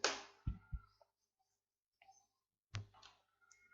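Computer mouse clicks while working in accounting software, a few sharp close clicks in small bursts separated by quiet pauses.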